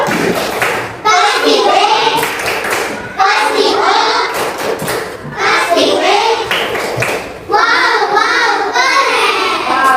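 Indonesian schoolchildren perform a rhythmic group clap chant, bursts of patterned clapping and shouted syllables repeating in roughly two-second cycles, loud and close.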